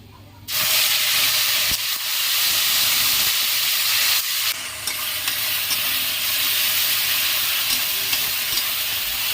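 A paste of onion, garlic, ginger, cumin, chili and coriander hits a hot pan for chicken curry. After a brief quiet moment it bursts into a loud, steady, hissing sizzle that holds with no talk.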